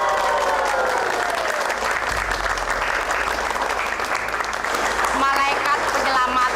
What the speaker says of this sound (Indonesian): Saya mohon tepuk tangan untuk Juragan Kasan.